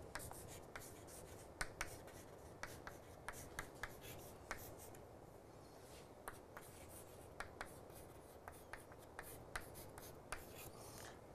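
Chalk or marker strokes scratching and tapping on a board during an optimization lecture, a steady close series of short scrapes and clicks, quiet and with no speech.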